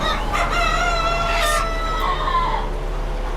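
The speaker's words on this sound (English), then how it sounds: "It's a rooster" A rooster crows once, loud and close, its drawn-out call tapering off against a steady background hum.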